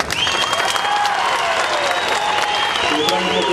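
A large crowd at a political rally in Pimpri-Chinchwad claps and cheers in a continuous loud roar of applause, with whistles cutting through and a voice speaking over it.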